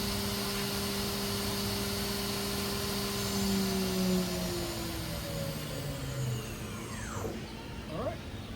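A new 2023 Smart SV2 CNC vertical machining center spindle spins near its 12,000 RPM top speed, giving a steady high whine with airy noise that dips and falls as it winds down near the end.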